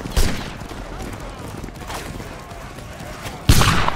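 Musket volley fire from a Napoleonic-era line-battle game, with scattered shots early, a faint crack near two seconds, then a loud ragged volley bursting out near the end over steady background battle noise.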